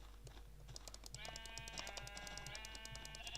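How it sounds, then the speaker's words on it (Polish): Sheep bleat faintly in Minecraft, a wavering high cry that holds for about two seconds beneath quiet rhythmic clicking and low background hum. "Zobacz ile owiec."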